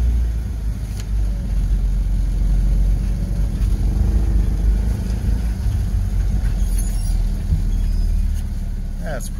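A BMW Isetta bubble car engine idles in neutral with a steady, low, rumbling putter throughout, close and fairly loud, with faint background noise.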